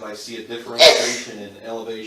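A single sharp sneeze bursts out partway through a man's steady speech at a county board of supervisors meeting, loud and brief, with the talk continuing around it.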